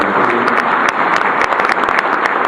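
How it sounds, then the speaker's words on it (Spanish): An audience at a bank-hosted breakfast event gives a loud, dense round of applause, many hands clapping continuously and close for the whole stretch. "Pido un fuerte aplauso"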